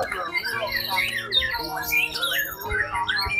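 A white-rumped shama (murai batu) calls at a songbird contest, with loud, continuous squawks, whistles and chirps that overlap other birds, and a steady tonal hum and crowd noise underneath.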